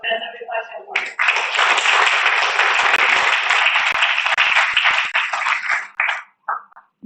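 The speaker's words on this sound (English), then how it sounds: "Please give a big round of applause for the most celebrated teacher, Professor Sharma." A big round of applause for a celebrated professor at a university induction programme, dense clapping from a large audience swelling in and holding steady for several seconds before tapering off into scattered claps.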